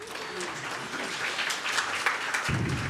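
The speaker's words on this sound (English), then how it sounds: "I'll allow that applause" Applause from the audience at a town council meeting in Zionsville, many hands clapping in a steady indoor patter; a faint voice murmurs early on and a low hum enters near the end.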